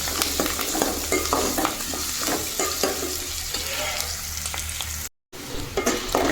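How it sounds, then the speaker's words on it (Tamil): Onions sautéing in a pan, a steady close sizzle with scraping stirs throughout, briefly cutting out near the end. "வெங்காயம் நல்லா வதங்கிடுச்சு"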